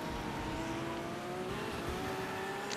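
A worn-out, battered car's engine drones steadily while driving in Next Car Game, a crash-heavy racing video game, with a constant hum and faint tire noise throughout and no talk.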